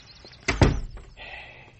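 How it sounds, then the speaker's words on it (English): An old barn door in a radio drama scene is pulled open with a heavy wooden thunk and rattle, followed by a faint drawn-out creak or draft-like hiss as it swings. "Get the door, Blore."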